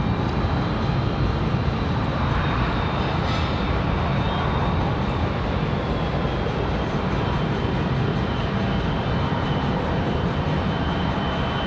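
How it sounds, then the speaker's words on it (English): A Frontier airliner holds at the runway end at Raleigh-Durham International, its jet engines giving a loud, steady broadband roar that stays constant throughout, with no voices. "Frontier getting ready to go out at the end of the runway"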